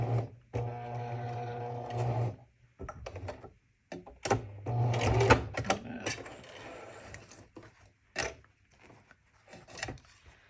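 A sewing machine stitches fabric for a heart-shaped Valentine's coaster, a close humming whir in a couple of short runs, broken by clicks, clunks and handling noises between stops.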